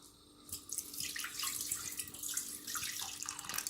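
Water pours steadily into a pan holding butter, a continuous splashing rush heard close up with no voices.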